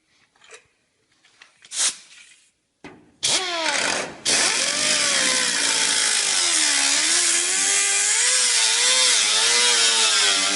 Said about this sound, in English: I'm going to cut this area out and we'll see what we got behind there